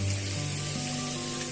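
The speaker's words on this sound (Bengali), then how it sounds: "এখন ভাজাভুজি করছে আর কি।" Food frying in a pan on a home stove, giving a steady hiss of sizzling and spattering with a faint tonal hum underneath and no talk.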